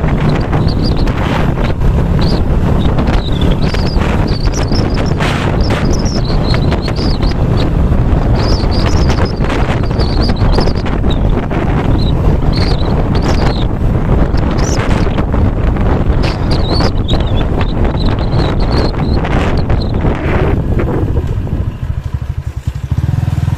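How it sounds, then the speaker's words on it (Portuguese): Strong wind gusting outdoors along a town street, buffeting the microphone with loud, continuous roaring rushes and bursts that swell and fade throughout, with no speech. "A ventania."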